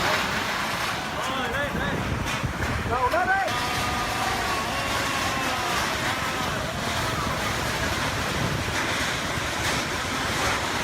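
Tornado winds roar through Prairie Creek Elementary School in Kansas, a dense, continuous, loud rushing with gusty swells, while voices shout faintly beneath the noise.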